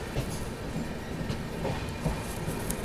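Goa Sampark Kranti Express train (12450) accelerating on rails, steady rumbling of carriages with repeated clickety-clack wheel beats over the track joints, heard from on board with no talk.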